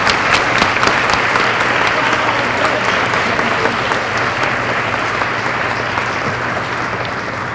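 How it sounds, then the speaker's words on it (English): A roomful of people at an awards ceremony give a round of applause for women honorees, steady dense clapping that carries on for several seconds and gradually fades slightly. "Let's give all of these women a big round of applause."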